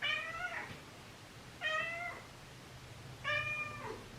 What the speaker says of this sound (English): I need you to stop meowing.